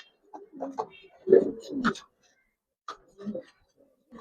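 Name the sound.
pigeons cooing on a farm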